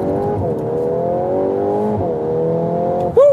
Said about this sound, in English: That was 0 to 100 kilometers acceleration